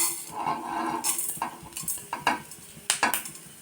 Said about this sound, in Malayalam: ഇത് നന്നായിട്ടൊന്ന് റോസ്റ്റ് ചെയ്യാം നമുക്ക്. പിന്നെ ഇതിലോട്ട് നമുക്ക് നമ്മുടെ 1/2 ടീസ്പൂൺ ഉഴുന്ന്,